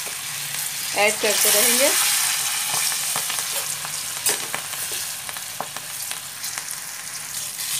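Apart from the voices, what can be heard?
green chilies frying in hot oil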